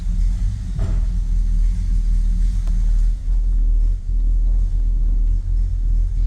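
A 1966 Oldsmobile Delta 88's engine rumbles steadily as the car drives along, a low continuous drone with slight dips, no voices.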